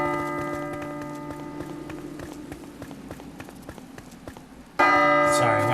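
A bell rung in the video game Portal Knights gives a sudden loud, ringing chime near the end, cutting in over steady background game music and ambience.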